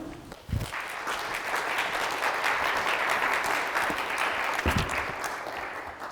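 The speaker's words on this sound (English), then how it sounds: "please give a round of applause for Ken Turino" An audience at a Lexington Lyceum talk on female abolitionists and Christmas breaks into full, sustained applause for the speaker, rising to a broad, even roar of clapping with a couple of low thumps near the start and end.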